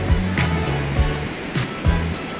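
Sea waves roll in at Niladri Beach in Puri on a bright morning, a steady broadband wash of surf with soft periodic swells, fairly loud and continuous with no one talking over it.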